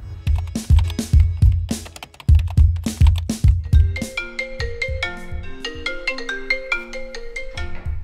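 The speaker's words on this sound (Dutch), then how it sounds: "Zal ik Dancho eens bellen?" Phone ringtone sounds while a call is placed, a loud bouncy electronic melody of quick repeated bass-heavy notes followed by a higher tinkling phrase, playing alone with no talk.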